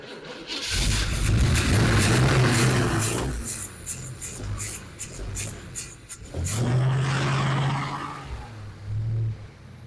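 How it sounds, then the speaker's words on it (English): An abandoned 1978 Chevrolet Camaro V8, primed with fresh fuel and starting fluid, fires up loud and close. It runs rough for a few seconds and dies, then catches again and idles with a steady throb. "Listen how good that thing runs."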